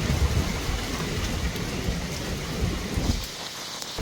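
Heavy hurricane rain with rumbling thunder outdoors in Jamaica, a steady loud roar of downpour with low rolling rumble that eases near the end.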